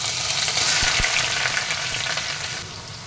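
Chopped onions sizzle and fry in hot oil with cumin seeds in a kadai, a steady dense crackling hiss close up with no talking.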